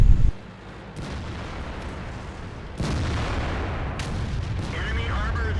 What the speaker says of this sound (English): I'm being fired on from the center of the map.